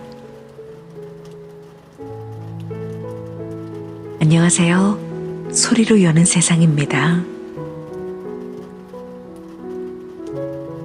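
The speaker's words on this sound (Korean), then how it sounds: "촉촉히 비가 내리고 있습니다." Steady rainfall on a Korean day with strong winds forecast, a soft continuous patter beneath someone speaking and gentle sustained musical tones.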